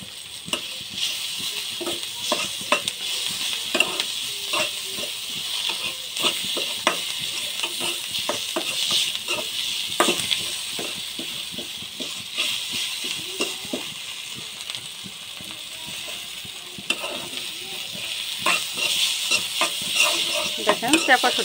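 Chapa shutki, a pressed dried fish, fries in a pan with onion, garlic, turmeric, chili powder and salt, giving a steady close sizzle broken by frequent scraping and clinking as a utensil stirs it.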